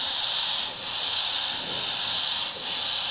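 An airbrush sprays paint in a steady, loud, close hiss that runs without break, with only slight swells in strength.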